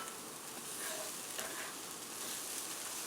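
Garlic and onions sizzling in a hot pan while being stirred and mushed around, a steady close crackle with faint scraping, no talk.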